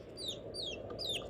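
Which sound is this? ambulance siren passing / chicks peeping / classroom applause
chicks peeping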